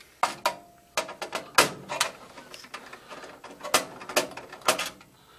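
Circuit board being handled and removed from a Bryant furnace, a series of irregular close plastic and metal clicks, knocks and rattles, with quiet gaps between them.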